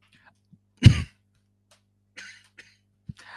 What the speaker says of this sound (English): This cough.